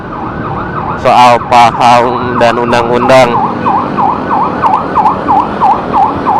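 An ambulance siren sweeps up and down steadily, close and loud, while a person talks over it in the first half.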